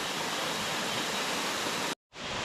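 Rushing water of Kinabuan Falls in Tanay, Rizal, a steady broadband roar with a low flow, holding constant before a brief sharp dropout near the end.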